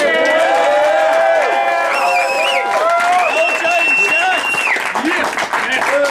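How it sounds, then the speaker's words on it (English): Onlookers at a rap battle title match applaud and cheer loudly, dense clapping under strong voices that shout and whoop over the top for the whole stretch. "both these motherfuckers deserve one more round of applause to make some noise"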